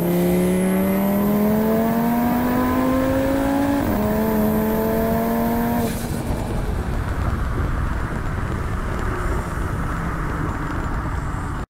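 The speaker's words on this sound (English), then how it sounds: "We're getting passed by the sheriff." A sheriff's car passes close by, its engine note rising and then dropping off as it goes past, loud and steady for several seconds and then fading into road noise.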